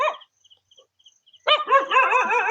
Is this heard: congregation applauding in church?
no